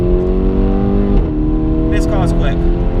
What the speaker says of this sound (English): let's drop it down a gear, shift it, 5th gear, 4th